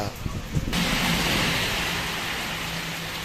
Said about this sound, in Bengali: আর বৃষ্টি প্রচুর বৃষ্টি হচ্ছে